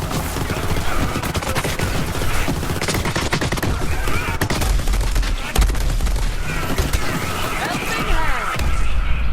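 Skexel gunfire in Borderlands 3 rattles in dense, loud bursts that run almost without a break, mixed with other game sound effects.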